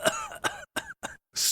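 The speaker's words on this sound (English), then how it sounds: "Kick out mucus and quiet the cough" A person coughs several times in a close, loud series of harsh bursts, ending in a rough, breathy exhale.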